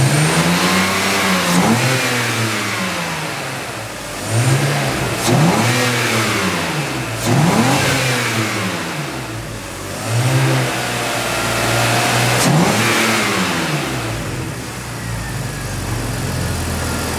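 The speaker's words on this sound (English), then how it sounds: "we're just going to rev the vehicle a little bit just so you can hear exactly how the motor sounds" A 2004 BMW 525i with 133,000 miles revving from idle, several rising and falling throttle blips spaced a few seconds apart over a low idle rumble, loud and close with no talking.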